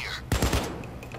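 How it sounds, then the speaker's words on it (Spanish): Gunfire in the video game Payday 2, a quick burst of three or four rapid shots followed by a brief echoing tail, loud and close with no talk over it. "Acá vamos a probar las habilidades de disparo para que ustedes puedan ver."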